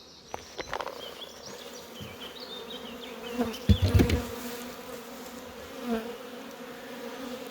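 Honeybees buzz in an open beehive during a frame inspection, a constant close drone with individual bees flying past, plus a few handling knocks and clunks, no speech.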